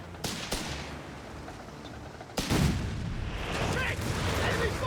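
Gunfire and cannon shots in the WWII strategy game Company of Heroes 3, distant-sounding booms and rattling shots across a battlefield, two sharp reports then sustained rumbling fire under a commentator's voice.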